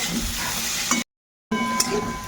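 Spiced masala with taro root sizzles and is stirred in a pan, a soft continuous frying hiss broken by a brief silent gap, then resuming with a faint clink.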